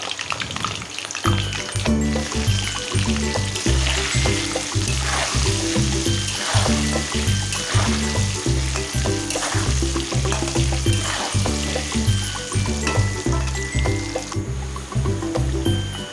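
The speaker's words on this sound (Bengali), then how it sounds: "দিয়ে আলুটা ভেজে নেবো লাল লাল করে" Potatoes seasoned with turmeric and salt frying in hot oil in a home kitchen, a steady close sizzle running throughout with a low rhythmic hum beneath it.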